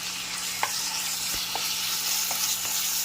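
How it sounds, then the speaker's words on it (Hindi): Small pieces of boneless chicken fry with ginger and garlic in a pan, giving a steady close sizzle with a few soft stirring clicks and a faint low hum underneath. "अदरक लहसुन के साथ एकदम अच्छे से फ्राई कर लेना है चिकन को"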